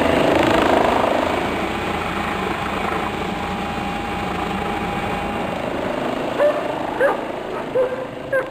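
A working dog barks in several short bursts close by while the steady drone of an ÖAMTC Eurocopter EC135 rescue helicopter runs underneath, the barks clustering near the end.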